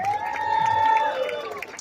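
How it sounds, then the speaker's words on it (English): Rally crowd in Washington Square Park cheering and applauding, with a sustained whistle-like tone over steady outdoor crowd noise and some voices. "Give another round of applause for yourselves,"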